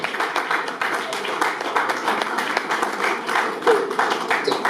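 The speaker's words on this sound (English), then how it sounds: "If your hands are not too busy, please clap for my president." An audience claps steadily at a school old students' association annual general meeting in Asaba, a dense continuous patter of many hands filling the room, with some talk mixed in.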